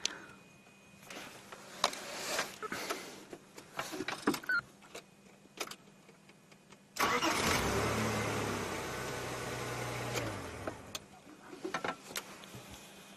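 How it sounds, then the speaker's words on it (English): A safari vehicle's engine turns over and starts abruptly, running as a loud steady rumble for about three seconds before cutting off, with scattered clicks and knocks before and after. "I'm going to turn on and then you'll hear the engine."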